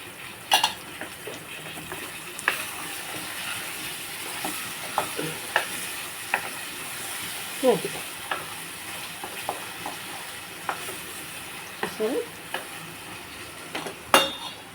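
Vegetables frying in a pan are stirred, a steady soft sizzle under repeated sharp scrapes and clinks of a spoon against the pan, close and alone without talk.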